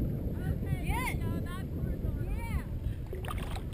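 An OC1 outrigger canoe is paddled on Lake Del Valle, with water swishing and gurgling close by under wind buffeting the microphone, while gliding whistle-like tones and voices drift in the background.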